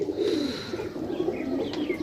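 Pigeons coo in low, throaty repeated calls close by, a steady murmuring flock sound with faint higher chirps near the end.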